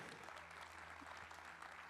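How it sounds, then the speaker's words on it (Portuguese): A church congregation applauds in a steady, even wash of clapping that runs throughout, fairly soft and with no voices over it. "E pode aplaudir o nome de Jesus."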